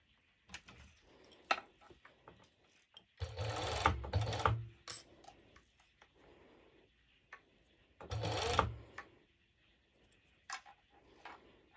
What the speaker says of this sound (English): I am using the serger once again for this next step